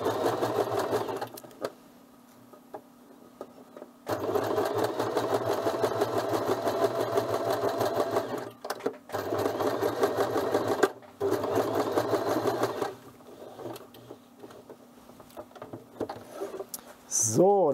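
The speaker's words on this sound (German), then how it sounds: "Da haben wir jetzt hier die erste Seite festgenäht." A sewing machine stitches a sleeve seam for an animatronic Grogu prop in several loud, steady runs separated by pauses, ending with a brief squeak.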